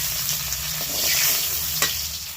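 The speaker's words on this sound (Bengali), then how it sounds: "দেখো ডিমগুলো একদম লাল করে ভেজে নিয়েছি, এবার তুলে নেব।" Duck eggs fry in a pan until browned red, a steady close hiss of hot oil with a couple of spatula scrapes over a low hum.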